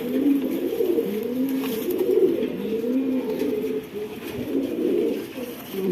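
Several pigeons coo continuously in a loft of racing birds, overlapping low throaty calls rising and falling close by, with no talk.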